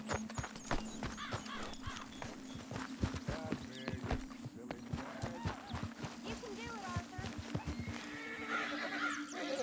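A horse in the video game Red Dead Redemption 2 whinnies and neighs while its hooves clop on the ground in irregular, busy steps. A voice speaks over the animal noise throughout.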